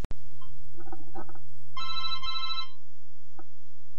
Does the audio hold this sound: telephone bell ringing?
yes